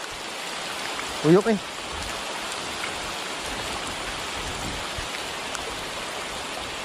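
Heavy rain falls steadily during freshwater ultralight fishing, a dense even hiss filling the whole stretch, with a short spoken phrase near the start.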